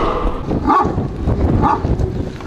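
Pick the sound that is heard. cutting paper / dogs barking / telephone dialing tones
dogs barking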